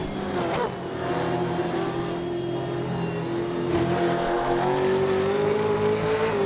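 A Toyota Supra race car engine in Assetto Corsa holds a steady, loud drone with rising pitch under acceleration, with faint tyre noise and no talk.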